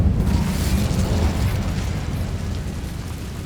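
An Incendio fire spell cast in Hogwarts Legacy bursts out as a loud, rumbling whoosh of flame, with a dense low roar that holds steady for about three seconds before easing slightly.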